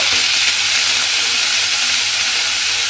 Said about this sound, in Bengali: এবারে এই মশলাটা আমি তেলের মধ্যে দিয়ে দেব। তেলের মধ্যে দিয়ে একটু কষিয়ে নেব।